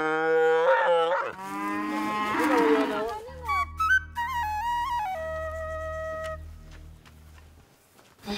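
Cattle mooing loudly and repeatedly at close range during vaccination on a farm, long drawn-out lowing calls overlapping one another, followed by a quieter stretch with a faint whistle-like tone.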